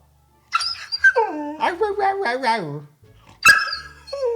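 A dog whimpers in a long whining rise and fall, then lets out a sharp bark, followed by a short whine, all close and fairly loud.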